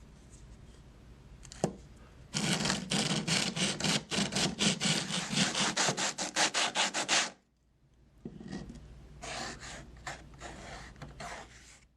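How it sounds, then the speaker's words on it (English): A sanding stick rubs back and forth over a coarse, concrete-textured surface on a scrap styrene model piece, giving a fast run of close, gritty scrapes. A short pause follows, then a second, softer burst of strokes. "I'll take a sanding stick to it and then paint it."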